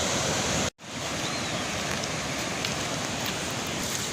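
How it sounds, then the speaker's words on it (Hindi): Rainwater gushes out and runs through a village after the first heavy rain, a loud, continuous broadband rush that is briefly cut off once, then resumes unchanged, with no voices present. "देखिए किस तरह से पानी आजकल निकल रहा है जगह जगह से"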